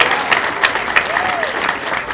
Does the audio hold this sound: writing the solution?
no